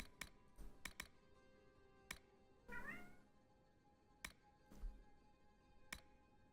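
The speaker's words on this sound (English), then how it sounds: "She does have the cutest meow" A pet cat gives a soft, close meow in the middle, set against sparse computer keyboard typing clicks in a quiet room.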